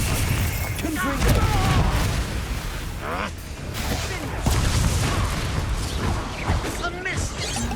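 Confringo fire spell blasts in Hogwarts Legacy combat: booming explosive bursts land repeatedly, with the biggest hits near the start, middle and end, over a dense clash of other battle effects and mechanical clatter, loud throughout.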